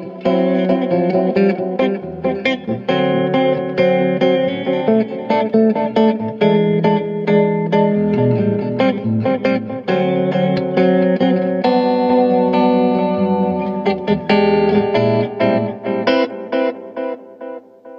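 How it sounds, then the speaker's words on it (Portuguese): Electric guitar run through a tape-style delay emulating an old tape echo, sustained chords and notes trailing into repeating, slightly degraded echoes, loud and continuous with no talking. "O de tape é imitando um delay de fita, né? Delay antigo"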